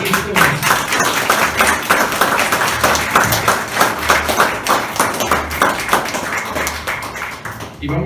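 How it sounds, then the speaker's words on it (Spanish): A church congregation claps in a steady, repeated rhythm during a Spanish-language service, with a low, pulsing backing underneath and voices mixed in. "Si lo creen, den un aplauso a Jesucristo."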